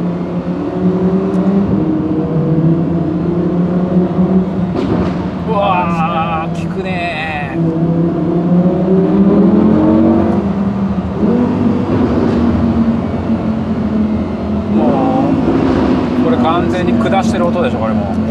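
Lamborghini Huracan LP580-2 Spyder with the top open, its engine humming steadily from inside the cabin with a few revving swells, under continuous conversation between people in the car.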